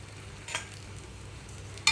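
Bottle gourd snack frying in ghee in a pan over a medium flame gives a soft, steady sizzle, with a brief stir or scrape near the start and a sharper clink at the end.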